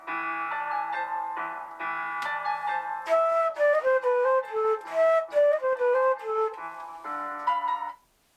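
Flute melody from the ABRSM Grade 2 piece Arethusa enters over a steady piano accompaniment, the two playing together clearly and fairly loud before stopping abruptly near the end.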